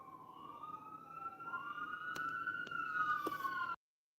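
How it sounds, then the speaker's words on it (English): A wailing siren rises and falls continuously, fairly distant, with a couple of sharp clicks partway through before it cuts off abruptly. "It sounds like they stopped the siren right here."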